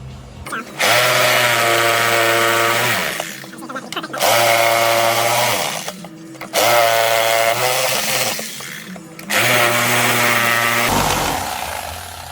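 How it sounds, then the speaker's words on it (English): A jigsaw saws a square opening out of a board in four loud bursts of strong buzzing cutting, with short pauses between them and a final thump as the piece is freed. "That just makes it easier for me to get the jigsaw into the hole and then make my cut."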